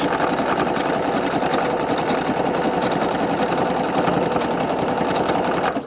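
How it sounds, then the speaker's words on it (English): A Singer Quantum Stylist 9960 sewing machine stitches metallic thread in a loud, fast, steady whirring rattle that runs unbroken up close before stopping abruptly at the end. "I've been sewing with metallic thread and not one breakage."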